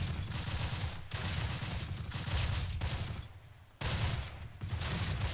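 Dense gunfire rattles almost nonstop in a Close Combat: The Longest Day battle at Brévands, a loud crackling fusillade that breaks off in short gaps before the shooting resumes.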